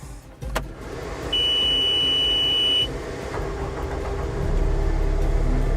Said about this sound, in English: So right now we're going to start the machine up.